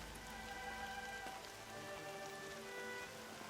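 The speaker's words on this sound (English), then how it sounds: "More rain. My boots will get damp." Rain falling in the video game Horizon, a dense, even patter of drops on surfaces, steady and close, with faint tonal game ambience in the background and no speech.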